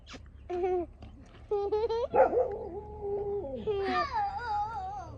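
A dog near a village home gives a few short barks and drawn-out whimpering whines in separate bursts, fairly close and clear against a quiet background.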